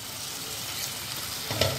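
A pea and potato vegetable dish sautéing in a pan gives a short, even sizzle with a soft scrape near the end; no voices.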